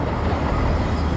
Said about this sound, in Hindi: एक रेलगाड़ी उस पटरी पर आने लगी।